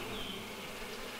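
Bees in the beekeeping video game APICO buzz steadily and softly, a continuous close insect drone with no talking.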